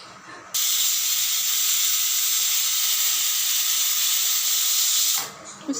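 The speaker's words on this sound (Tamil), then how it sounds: "விசில் வந்துருச்சுங்க, ஆஃப் பண்ணிடுவோம்." A pressure cooker whistles while spinach (arai keerai) cooks inside, a loud, steady, high-pitched steam hiss that starts abruptly, holds for about five seconds and then cuts off.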